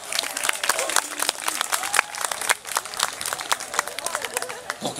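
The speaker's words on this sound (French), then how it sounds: "donc on peut l'applaudir bien fort" Audience clapping for a guard dog's defense demonstration at an agricultural fair, a brisk burst of applause from a nearby crowd, fairly loud and steady for several seconds with a voice talking over it.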